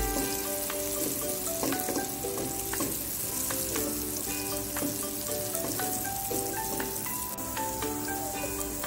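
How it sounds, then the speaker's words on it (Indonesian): Sliced shallots, garlic and galangal sauté in hot oil, crackling with a dense, steady sizzle and scattered pops, plus the occasional clink and scrape of stirring, close up and with no voices. "Sekarang kita tumis. Kita tumis sampai aromanya wangi."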